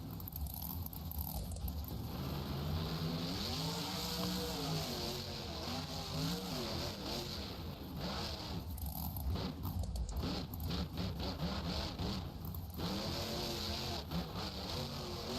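Trucks race and launch off a jump in BeamNG.drive, the simulated engines droning and revving continuously at steady loudness, with mechanical clatter and gear whine layered over a dense, busy mix.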